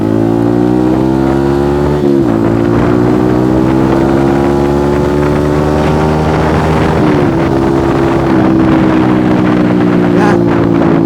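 A custom vintage-styled Yamaha WR 155 motorcycle engine revs hard while riding, its loud steady drone climbing in pitch through the gears with brief dips at each shift, over constant wind buffeting and no talk.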